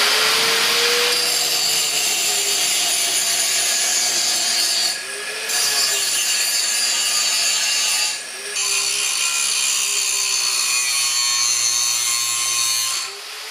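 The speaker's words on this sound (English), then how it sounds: "just going to grind a bevel in each for proper penetration" A grinder cuts a bevel into metal plate with a loud, steady, harsh whine that runs continuously, dipping briefly twice as the tool is lifted and reapplied.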